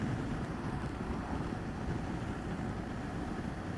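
Steady wind rushes and buffets against the microphone during a motorcycle ride, a continuous low roar with no pauses.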